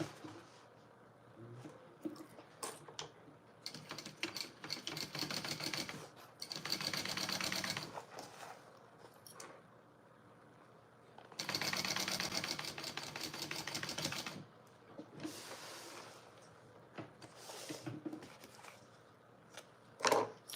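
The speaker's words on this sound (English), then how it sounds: "All right, so now I'm gonna sew that." A sewing machine stitches layers of a bag in several long running bursts separated by pauses, its rapid mechanical chatter loud and close.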